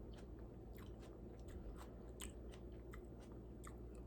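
A raw wild onion is bitten and chewed close to the mic, with repeated crisp crunches and wet mastication sounds in an irregular rhythm over a low background rumble.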